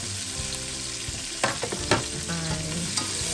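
Sliced sweet onion and garlic stir-fried in a pan, a steady close sizzle broken by a few sharp scraping and clattering stir strokes.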